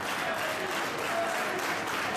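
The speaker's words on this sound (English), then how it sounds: "And listen to the crowd. They're liking what they see here at the Cannery Casino." A packed pro wrestling crowd at the Cannery Casino claps and cheers in a dense, steady roar with no break, loud and close throughout.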